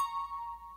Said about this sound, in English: this is my little synth pluck